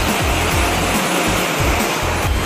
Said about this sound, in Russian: говорят, что этот водопад был создан в 1722 году по приказу Петра I